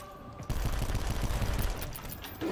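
Shotgun gunfire in the Call of Duty Black Ops 4 Zombies video game, loud and dense, with rapid blasts running together into a continuous barrage for a couple of seconds.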